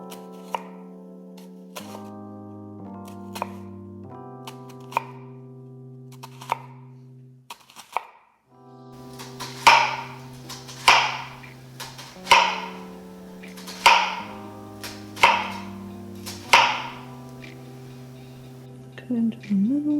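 A food processor chopping onion for chickpea noodle soup, a series of loud, evenly spaced blade bursts over a steady background drone, close up and alone.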